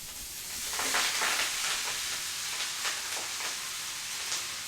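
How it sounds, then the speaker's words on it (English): Mustard leaves cook in warm ghee with turmeric, giving a steady close sizzle and crackle with faint stirring noises and no talking. "Let the butter warm through before adding the mustard leaves."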